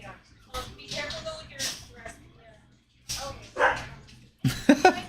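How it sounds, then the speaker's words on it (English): A small dog barks in short yippy bursts indoors, several sharp barks clustered near the end, with people talking over and between them. "Oh, who's barking?"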